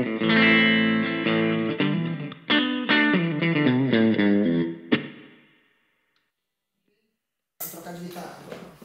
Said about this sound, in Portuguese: todos os captadores da ponte que vocês vão ouvir têm um som mais agudo, que é mais ideal para ser usado com distorção